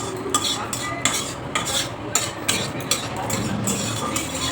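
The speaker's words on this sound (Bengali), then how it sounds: "জিরা 1 চামচ ফোড়ন দিলাম।" Cumin seeds tempered in hot oil for a vegetarian cauliflower and potato curry sizzle softly in the pan, with a steady frying hiss punctuated by regular clinks of a stirring spoon against the pot.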